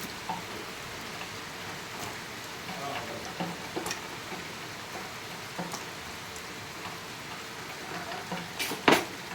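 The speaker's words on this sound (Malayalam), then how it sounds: "പുറത്ത് നല്ല മഴ പെയ്യുന്നുണ്ട്, അപ്പോൾ അതിൻ്റെ സൗണ്ട് കേൾക്കും." Heavy rain falls outside a kitchen, a steady wash of drops on surfaces with a few sharper clicks and taps scattered through it, continuous and fairly close.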